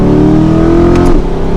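A 2022 Corvette Stingray engine pulls hard in third gear after a downshift, a loud, close, steady drone with rising pitch under a brief moment of cabin noise.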